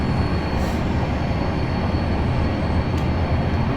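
A train runs in Train Simulator 2018 on the Waterloo to Portsmouth Harbour route, giving a steady, dense rolling rumble with a faint high whine, unbroken and without talk.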